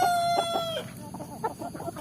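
Free-range village chickens cluck in short bursts while a rooster's crow rings out at the start, followed by several quick, close clucks and calls.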